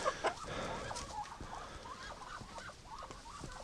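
Chickens cluck and murmur repeatedly in a snowy-weather flock setting, a series of short soft calls at moderate distance over a faint background.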